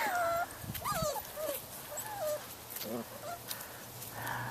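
Halloween puppies going down a flight of stairs let out high, wavering whimpers and whines, several short cries spread across the stretch, with people talking over them.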